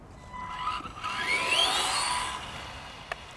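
A stock Tamiya TT02 Porsche 911 RSR radio-controlled car on its first run, a high electric motor whine rising in pitch as it accelerates and then fading, heard alone and fairly faint.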